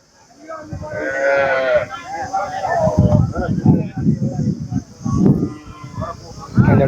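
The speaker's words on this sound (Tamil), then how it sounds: "அந்த மாடு பாருங்க அப்பா கொஞ்ச நேரத்தில் எல்லாத்தையும் பயமுறுத்திடுச்சு" Cattle bellow and low at a busy village cattle market held for a temple festival, loud and close amid crowd noise, with people talking throughout.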